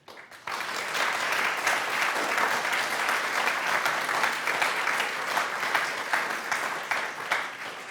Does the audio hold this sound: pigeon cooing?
no